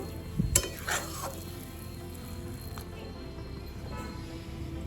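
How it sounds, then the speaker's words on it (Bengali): Peanuts stirred into taro greens with coconut frying in a pan, with a few scraping knocks of the spoon near the start over a faint steady sizzle. "বাদামটা দিয়ে একটু নেড়ে দেব।"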